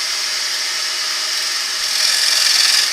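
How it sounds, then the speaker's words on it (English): A diamond tip parting tool cuts a recess into a spinning wooden bowl on a lathe, giving a continuous hissing scrape that grows slightly louder and harsher near the end, with no voices. "take the diamond tip parting tool and start to make the recess"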